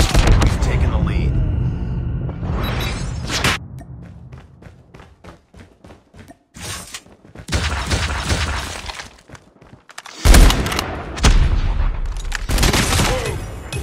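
Rapid gunfire bursts and impacts from Call of Duty Mobile, loud and close, with game announcer voices and a player talking over the action.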